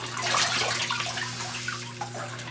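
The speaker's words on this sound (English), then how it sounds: "there's a little water in the tube that drains out" Water trickles and gurgles as it drains out of the tube of a Bedrock Buster gold-prospecting tool, a steady close splashing flow with a low hum underneath.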